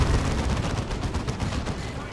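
Gunfire from a turret in a Dawn of War 2 battle rattles on steadily, a dense run of rapid shots at close range with a commentator speaking over the top.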